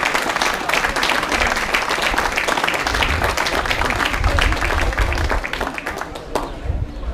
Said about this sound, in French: Applaudissez-les, vraiment,